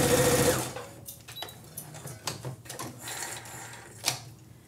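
A sewing machine stitches a twin needle seam in a dress, a steady mechanical whir with clicking needle strokes, close and continuous after a brief louder start, with no talking.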